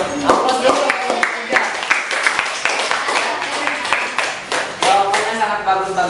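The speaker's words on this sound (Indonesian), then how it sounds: "Aplaus dulu" A classroom group applauding, a burst of rapid overlapping hand claps lasting several seconds, close and lively, with faint voices mixed in.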